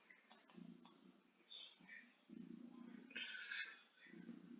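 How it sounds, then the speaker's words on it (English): A domestic cat purrs right next to the listener, a faint, low rumbling that comes and goes in short rhythmic stretches over a quiet room hum. "a humming noise, that is my cat purring next to me"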